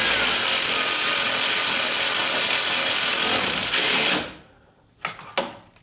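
A powered ratchet runs loudly and continuously during a front crash bumper install on a 1976 Corvette restomod, then cuts off abruptly, followed by two short bursts.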